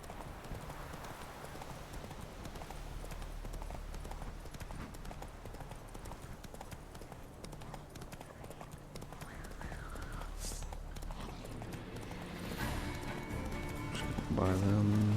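Roach, the horse in the video game The Witcher 3, trots and gallops with steady rhythmic hoof clip-clops over a constant background, while someone speaks over it and a louder burst rises near the end.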